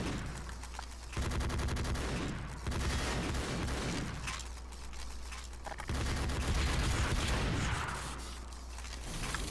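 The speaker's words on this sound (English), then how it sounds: "Rapid fire, yo." Rapid gunfire in Team Fortress 2 keeps up in dense, continuous bursts that overlap into a loud, sustained clatter, with short dips between volleys over several seconds.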